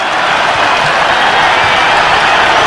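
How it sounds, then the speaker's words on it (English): Crowd in a basketball arena at a Villanova versus UConn college game applauds and cheers loudly, a dense continuous roar of clapping filling the space. "Now the crowd is into it."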